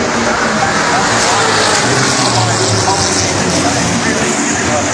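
A race car at Pukekohe Park Raceway roars past in a loud, continuous engine drone that fills the whole moment, with broadband road and wind noise and a voice talking beneath it.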